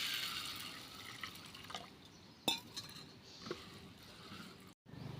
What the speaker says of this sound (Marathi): आता यामध्ये आपण पाणी टाकूया